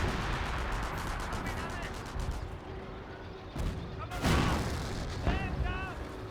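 Booming artillery fire from a Company of Heroes 1 battle rumbles beneath a dense bed of game noise, with a couple of louder impacts toward the end and chirpy sound effects scattered through.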